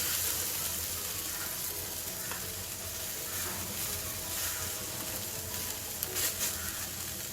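A fasting dosa sizzles on a hot tawa after being turned over, a steady crackling hiss held close and even, with faint scrapes and ticks toward the end.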